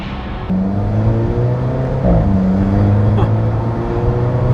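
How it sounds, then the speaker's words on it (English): Lime green Alfa Romeo 4C coupe driving on city streets, its engine droning steadily up close with a brief change in pitch around a gear shift, a short exhaust blip audible amid the continuous cabin hum. "You just love the little fart that this car gives out every time it shifts."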